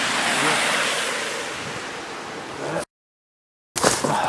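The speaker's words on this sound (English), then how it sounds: "A sudden gust of wind." A strong gust of wind roars across an outdoor plein air painting spot in the snow, buffeting the microphone loudly for nearly three seconds before cutting to silence, then gusting again.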